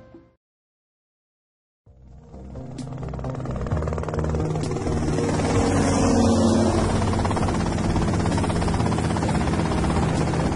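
In the video game GTA Vice City, a helicopter engine spools up after a moment of silence, swelling into a loud, steady rotor drone that holds on for several seconds.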